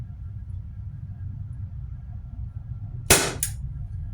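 A T4E SW MP9 m2.0 CO2 pistol fires 11mm steel balls, two sharp close cracks about a third of a second apart, then quiet low room hum.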